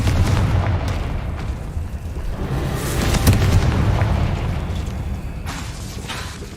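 Explosive spell blasts in the Hogwarts Legacy video game, a loud continuous rumbling boom that swells and rolls on for several seconds before easing off, with no talking.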